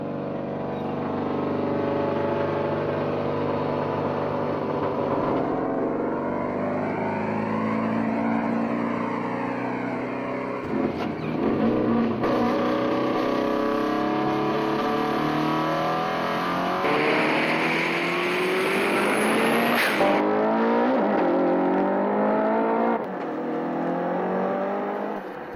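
A Subaru Brumby Ute drag car with a WRX engine, 2.2 litre stroker kit and 100 horsepower NOS kit roars loudly nearby, revving and accelerating repeatedly in long continuous runs with no voices.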